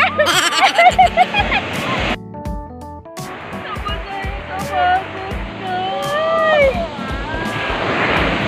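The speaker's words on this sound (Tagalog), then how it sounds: "Grabe, pero ang alon, grabe oh. Laki ng alon." Big ocean waves roll and crash onto Shek O Beach in Hong Kong, a continuous surging wash of surf with rising swells, heard under excited voices talking nearby.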